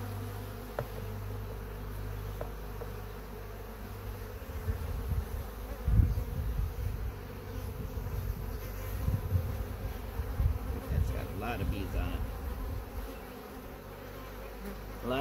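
A dense, steady drone of many honey bees buzzing close by in an open hive during inspection, continuous and humming for the whole stretch.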